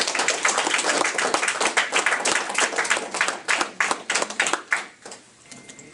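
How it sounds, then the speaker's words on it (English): A small open mic crowd claps in a lively, uneven burst of hands close to the mic, thinning into scattered individual claps before fading out. "Get a round of applause for Kobe."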